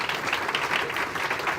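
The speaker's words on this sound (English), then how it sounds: "A round of applause, please." Audience at a global forum on responsible recruitment claps for a departing panel guest, a soft, even patter of applause heard from a distance, brief and continuous.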